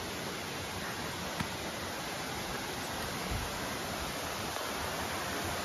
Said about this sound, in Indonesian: di sini kita melewati air terjun teman-teman.